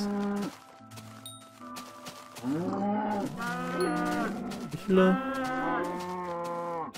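Several Minecraft cows moo in long, drawn-out, overlapping calls, loud and close, with a brief spoken voice early on.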